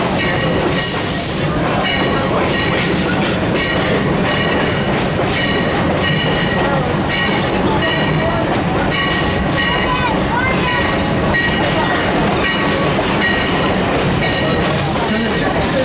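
Sierra Railway No. 3, a steam train, rolls into Jamestown station with a steady loud rumble and clickety-clack of wheels, a brief high whistle or squeal near the start and end, and voices faintly underneath.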